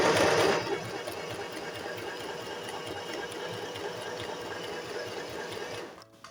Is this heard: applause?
no